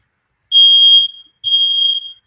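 A smoke detector alarm sounds two loud, piercing electronic beeps, each about half a second long, separated by a short silence in an otherwise quiet room.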